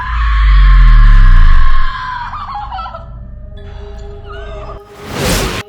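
A woman in a horror movie lets out a loud, sustained scream that drops in pitch and trails into shaky, gasping cries, ending with a short harsh burst of noise.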